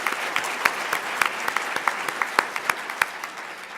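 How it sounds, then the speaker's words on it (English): Scattered applause from a conference audience for a panel at CHI 2017: a modest room of distinct, separate claps rising and falling over a few seconds. "So please, can we please give a warm round of applause to our panelist members?"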